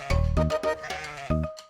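A goat bleats loudly and close by, several wavering nasal cries in quick succession with short pauses between them, heard alone without talk.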